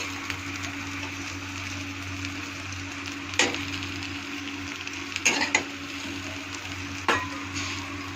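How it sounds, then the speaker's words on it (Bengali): A spoon stirs food frying in a pan over a steady low hiss and hum, with a few distinct clinks and scrapes against the pan scattered through. "সুন্দর করে নেড়ে চেড়ে নেব"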